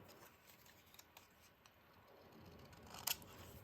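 Scissors snipping to trim a paper piece, a few faint, close clicks and a crisper double cut near the end against quiet room noise.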